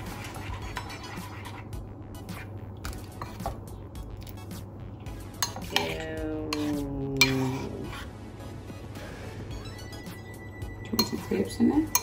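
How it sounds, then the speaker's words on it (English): A spoon stirs and clinks against a bowl of porridge mixed with manuka honey, giving soft scraping and sticky squelching with scattered sharp taps, while a voice talks over parts of it. "I'm just mixing that together now."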